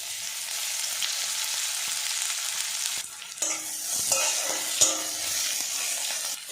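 Chopped onion dropped into hot oil with nigella seeds and whole cumin, a constant sizzle that surges louder halfway through as the onion goes in, with clattering stirs that follow.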